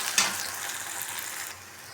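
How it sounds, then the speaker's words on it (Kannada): Ground masala with curry leaves frying in hot oil for an egg potato masala, a steady close sizzle with a brief sharp crackle near the start, then settling into a softer hiss. "ಮಸಾಲೆ ಕೂಡ ಎಣ್ಣೆಯಲ್ಲಿ ಚೆನ್ನಾಗಿ ಫ್ರೈ ಮಾಡ್ಕೋಬೇಕು"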